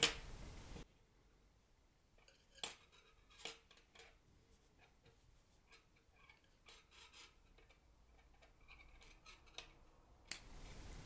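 Scissors snip the yarn ends off a crocheted flower-shaped doily: a handful of sharp, close, quiet cuts spread irregularly through an otherwise hushed room, with no talking.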